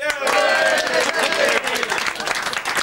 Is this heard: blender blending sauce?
no